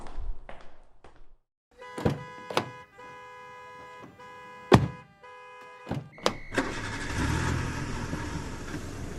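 Sedan in a 1940s-style radio drama: a few hard door thunks and clunks, then the engine catches and holds a steady, loud roar to the end.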